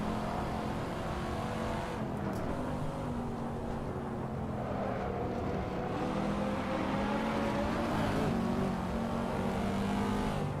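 Race cars in the Assetto Corsa racing game jostle through an off-road overtake, with a continuous layered engine drone of several cars revving and shifting under steady road roar, moderately loud and uninterrupted.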